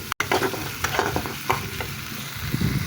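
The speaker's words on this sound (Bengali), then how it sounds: "এখানে মশলাটা একটু ভালোভাবে কষিয়ে নিচ্ছি" Spice paste with ginger, garlic and turmeric stir-fries in a pan, giving a continuous sizzle broken by scraping stirs and occasional spatters, with no talking.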